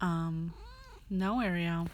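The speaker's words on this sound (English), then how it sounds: "Sorry, that's my cat if you hear." A house cat gives two loud, close, drawn-out meows, one rising and falling, while a person speaks briefly between them.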